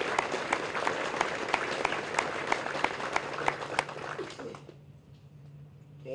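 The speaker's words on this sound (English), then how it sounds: "Let's give her a round of applause." A crowd applauds at a 1st Marine Division War on Terror memorial dedication at Camp Pendleton, California, honoring the war horse Reckless; steady dense clapping with a few sharp claps, fading out near the end.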